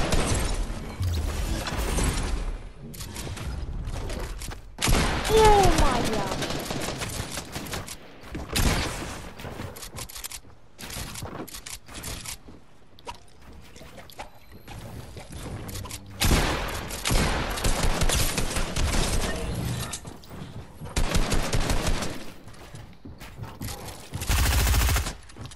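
Video game gunfire from a player's weapon, with loud bursts of rapid shots and fusillades alternating with brief quieter stretches of mechanical clicks and shattering, no talk over it.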